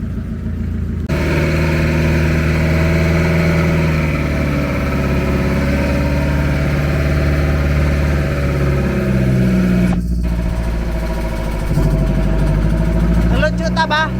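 A mid-sized engine idles and runs steadily with a constant low throb, close and loud, while people talk over it throughout.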